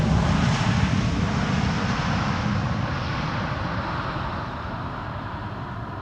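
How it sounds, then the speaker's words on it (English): An Air Canada Boeing 777-200 long range arrives from Toronto at Amsterdam Schiphol in gusty crosswinds. Its loud, steady jet roar fills the whole stretch and eases off gradually, with no voices. "this is Air Canada flight 808. Arriving from Toronto, it's a 777-200 long range."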